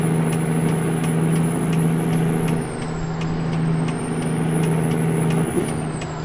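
A nearby truck in American Truck Simulator, hauling a long lowboy trailer, gives a steady loud engine drone with a low hum and a constant high whine, and a brief hiss near the end, with no talk.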